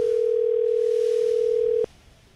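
A continuous telephone ring tone on a radio call-in line holds steady and loud, then cuts off abruptly with a click near the end, leaving quiet line hiss.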